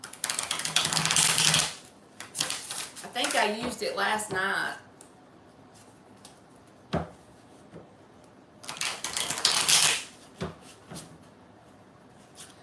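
Bursts of riffling, flapping card noise come in short spurts separated by quiet stretches, with a person talking in between.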